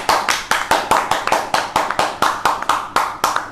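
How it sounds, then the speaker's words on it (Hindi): Hands clap at an online speaking competition's results announcement for the winner, a close, sharp and evenly paced run of about thirteen single claps, each one distinct. "तो जोरदार तालियां हो जाए संपदा लाउत्री के लिए।"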